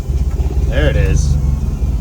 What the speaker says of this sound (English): That's surging idle too